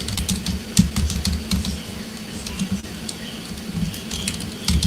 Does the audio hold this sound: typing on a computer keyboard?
yes